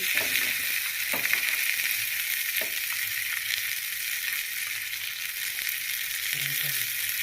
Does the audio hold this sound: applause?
no